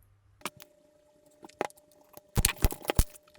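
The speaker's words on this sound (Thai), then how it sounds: "ถ้ามีเสียงกุกกัก นี่คือเสียงแมวนะครับ แมวมันมาวิ่งเล่นกล่อง" Soft, scattered taps and scuffles as a cat runs and plays on a cardboard box. They come in brief bursts and grow busier toward the end.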